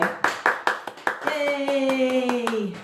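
Students at a Jitterbug Stroll dance class clap in a loose burst of separate, close hand claps, followed by brief cheering and a voice calling out over the last of the clapping.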